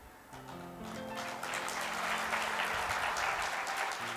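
An audience at a Shri Krishna katha gathering claps together, the applause building after a moment into a dense, sustained roar with music faintly beneath.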